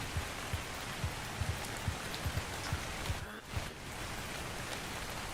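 Steady rain falls in the ARK Ascended game on the Scorched Earth map, a dense even hiss with soft low pattering drops throughout and a brief lull near the end, with no voices.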